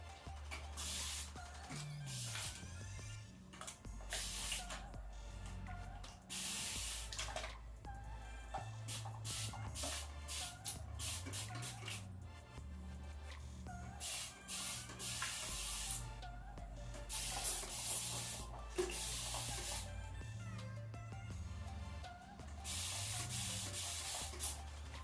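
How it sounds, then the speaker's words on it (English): A handheld spray bottle misting water onto hair at the roots, heard as repeated short hissing spritzes in bursts over a low background tone, with no talking. "spray my hair just a little bit on the roots only"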